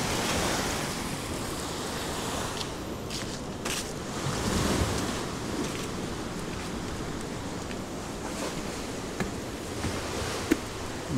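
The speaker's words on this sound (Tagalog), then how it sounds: "Maingay ngayon guys yung ano, yung dagat" Sea waves wash steadily at an abandoned beach resort, a broad continuous surf roar with wind, fairly loud and constant with no speech.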